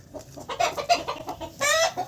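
Hens on a poultry farm cluck in short, close bursts, ending in a louder drawn-out squawk, with no talking.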